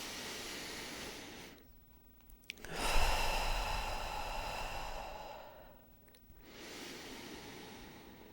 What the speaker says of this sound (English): let's take 3 nice deep breaths together